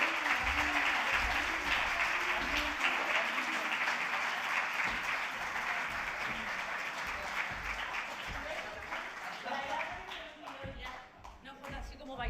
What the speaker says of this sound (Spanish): un gran aplauso para Natalia Dicenta